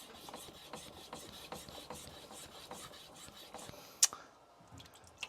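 A Tojiro Shirogami 2 santoku knife is drawn over a medium-grit Suehiro whetstone, a quiet close rasp repeating in even strokes, ending with a sharp tap and then near silence.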